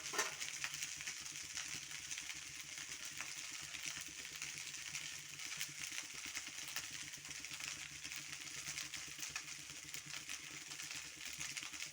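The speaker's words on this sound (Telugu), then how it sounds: "ఇది బాగా వేడయ్యే వరకు బాగా వేయించుకోవాలి" Leftover night rice frying in a hot pan gives a steady, continuous sizzle with faint scraping stirs running throughout, fairly quiet and close.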